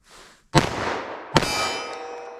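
A pistol magazine drops and strikes a hard surface twice, each impact a sharp metallic clang followed by a ringing decay, close and loud with no talking.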